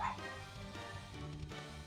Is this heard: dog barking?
yes